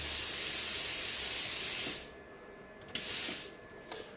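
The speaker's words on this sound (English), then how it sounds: "if I click on this it'll open a solenoid which will let the air come through" Compressed air hisses loudly through the solenoid valve of a homemade CNC machine's mist coolant system in a steady spray for about two seconds, then cuts off, followed by a shorter burst and a brief faint puff.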